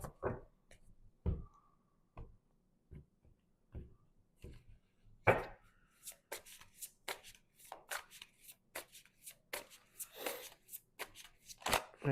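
Tarot cards being drawn and slapped down from a deck during a spiritual reading, a run of crisp papery clicks and flicks that quickens into a steady patter, fairly close, with quiet speech murmuring underneath.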